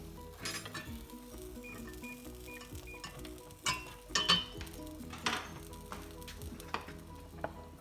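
Fifty grams of real butter melts in a pan on the heat, giving a quiet, steady sizzle broken by occasional clinks and scrapes of pan and utensils.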